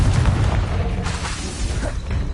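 A Confringo fire spell explodes in Hogwarts Legacy, a loud, deep booming blast with rumbling crackle that fills the short stretch without pause.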